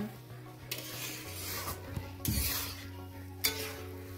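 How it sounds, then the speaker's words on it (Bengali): A spoon scrapes and rubs through semolina in a pot over medium heat, with a few soft strokes and a louder scrape midway, close by and with no voices. "এভাবে নেড়ে চেড়ে সেদ্ধ করে নিব"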